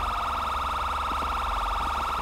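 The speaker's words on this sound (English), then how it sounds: "He's got a siren on. Turn it off." A police car siren in a video game wails continuously and loudly, a fast warbling electronic tone close by with engine rumble underneath.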